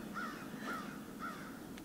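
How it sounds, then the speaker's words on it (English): A young rooster's thin, wavering crow attempts, three short strained calls spaced about half a second apart over a steady background hiss. "a really pathetic beginning rooster crow"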